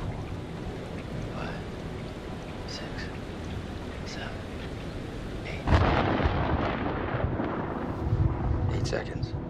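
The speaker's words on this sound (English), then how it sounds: "The storm's 8 miles away." In the video game Man of Medan, a storm rumbles under a low background of wind and waves, then a thunderclap breaks loudly partway through and rolls on.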